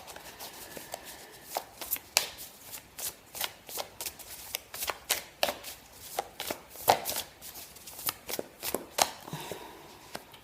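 Playing cards are handled and laid out on a table, producing a close series of crisp snapping slaps and flicks in an irregular, quick rhythm.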